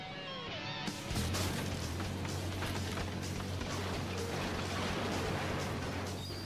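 Two Komatsu D575A super dozers crush a 45-foot mobile home trailer, a loud continuous grinding roar with crunching and a steady low engine drone, starting after a brief quieter opening.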